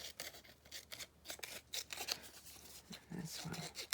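Scissors cutting paper for a vintage Stanford yearbook journal: a rapid series of close, crisp snips and rasping cuts across the whole stretch, with soft speech in the background.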